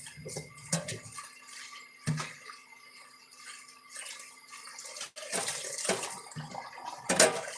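Water runs briefly from a tap for a quick rinse during farm chores, with soft splashes and faint clatter in between, fairly quiet and close.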